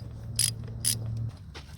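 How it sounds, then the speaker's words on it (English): A wrench on the intake bolts of a Polaris Sportsman 90 ATV gives two quick, bright ratcheting clicks close by, then fainter handling noise, with no voices. "I took these two bolts off of this little intake"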